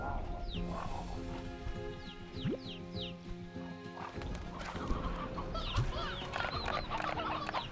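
Chickens cluck softly in the video game Slime Rancher 2, a quiet, scattered run of short clucks over a steady musical backdrop, with a few higher chirps mixed in.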